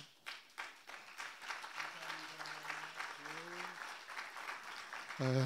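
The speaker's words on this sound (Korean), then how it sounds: "박수로 크게 여러분 맞이해 주시기 바랍니다" A church congregation applauds during a Sunday evening worship service, steady broadband clapping filling the hall, with a voice speaking over it partway through.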